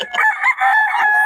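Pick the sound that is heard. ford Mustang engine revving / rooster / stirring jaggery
rooster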